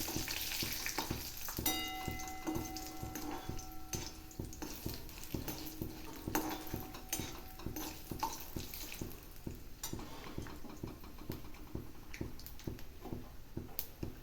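Steady sizzling of mustard seeds in hot oil with dense, rapid little pops and crackles, plus occasional clinks of a utensil against the pan.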